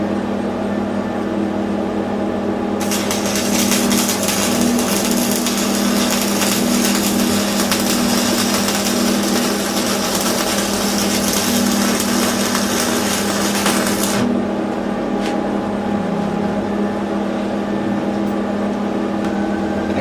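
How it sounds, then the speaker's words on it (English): A grinder works across welds on a steel boxing plate in a continuous loud, harsh roar for about eleven seconds, over a steady motor drone that keeps running before and after. "I'm gonna have to go over this 2 or 3 times and grind it out and fix all my marks"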